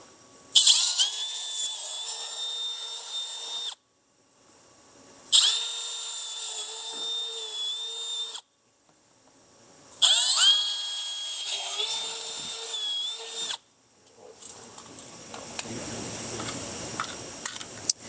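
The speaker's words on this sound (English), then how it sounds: "We're just gonna match drill them." A power drill match-drilling holes through a Rokblokz fender kit on a 2026 Kawasaki Teryx H2 UTV, whining loudly in three sustained bursts separated by short pauses, then a rougher, scratchier stretch at the end.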